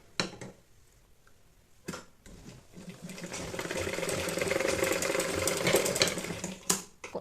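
A sewing machine runs a seam on cotton baby nappy fabric, starting after a few soft knocks and handling sounds, then whirring steadily up close for several seconds before stopping with a clack.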